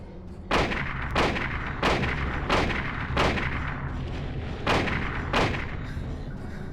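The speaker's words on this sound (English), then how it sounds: "Good thing I picked up the hunting rifle." Hunting rifle fired in a Silent Hill video game: seven loud, booming shots at a steady pace of roughly one every two-thirds of a second, with a brief gap before the last two, each shot trailing into a dense rumbling tail.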